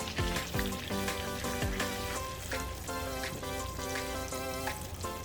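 Food for shrimp fettuccine Alfredo sizzling in a pan over high heat, a continuous close frying hiss with a few stirring knocks near the start, under background music, no voices.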